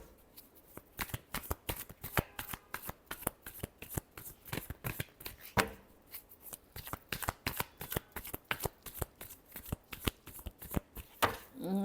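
Tarot cards shuffled in a long run of rapid riffling, crisp flutters and soft taps, close and fairly quiet with no talking, ending on a brief pause.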